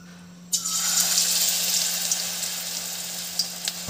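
Pointed gourd pakoras coated in gram flour batter fry in hot oil, a steady close bubbling sizzle that starts abruptly and holds throughout with a few small pops, no voices.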